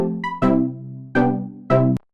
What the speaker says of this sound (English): If I use a chorus, it's gonna sound like this.